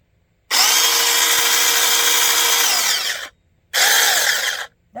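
A Tietoc handheld power saw runs for nearly three seconds with a steady high whine, winds down, then starts again for another second-long burst, close and loud with no voices.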